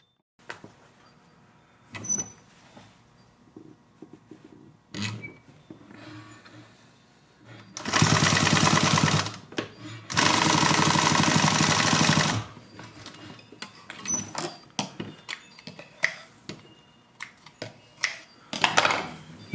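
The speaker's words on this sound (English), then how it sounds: "I can then just sew it to the top of the mask where your nose would be." A sewing machine sews a wire nose piece wrapped in fabric onto the top of a cloth face mask in two loud, steady runs, with handling clatter and scattered knocks around them.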